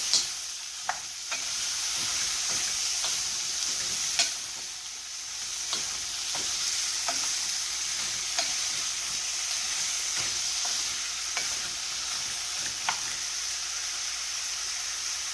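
Zucchini frying in a pan and being stirred, Italian style: a constant close sizzle with irregular scrapes and taps from a utensil scattered throughout, no speech.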